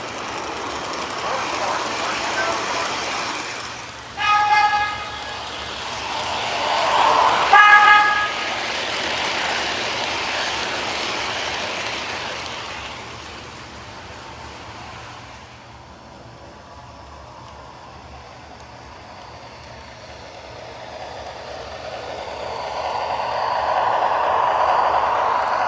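New York City subway 7 Flushing Local train running, with a broad rushing roar and rail noise, a short chime and horn-like tones near the start, fading quieter before the roar builds again toward the end.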